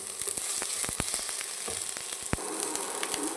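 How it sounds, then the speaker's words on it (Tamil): Tomatoes sizzle in a pan while being stirred continuously, the frying hiss broken by frequent sharp spoon clicks and taps against the pan. "நல்லா கிண்டிக்கிட்டே இருக்கணும் ஃப்ரெண்ட்ஸ்."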